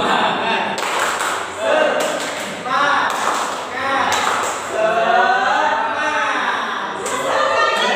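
Rhythmic group clapping from a primary school class doing a spirit-cheer clap routine during a microteaching session, sharp patterned claps in bursts mixed with children's chanting and talk.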